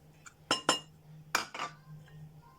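A spoon clinking against a bowl while stirring flour, sugar and salt for homemade Twix: a few sharp metallic taps in quick pairs, close and fairly quiet over a low steady hum.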